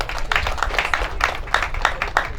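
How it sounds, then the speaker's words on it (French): Applause at a funeral ceremony: many hands clap in a dense, uneven patter that holds steady throughout, fairly close and moderately loud, with a low background rumble and no speech. "Applaudissez encore."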